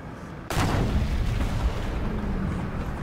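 A tank's main gun fires once in War Thunder on the German TAM 2IP, a sudden loud boom followed by a heavy rumbling tail and sustained low engine drone, with no talk.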